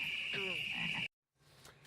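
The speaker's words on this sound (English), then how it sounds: "If I say Budweiser frogs" The Budweiser frogs of a Super Bowl beer commercial croak in a brief burst over a steady high tone, followed by a sudden cutoff and quieter background.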